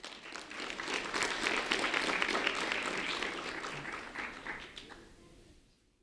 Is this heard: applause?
yes